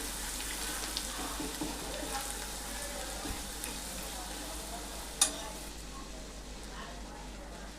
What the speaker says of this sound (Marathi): वाटण आपल्याला थोडंसं परतून घ्यायचं आहे।